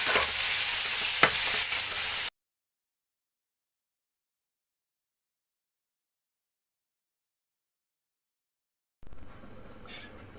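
Potatoes and pumpkin sizzle loudly in a hot pan as they are stirred, then a long stretch of silence before the frying noise returns, softer.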